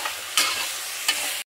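Chicken stirred in a hot pan for a biryani, with a short close sizzle and two scraping strokes of the spoon, then an abrupt stop.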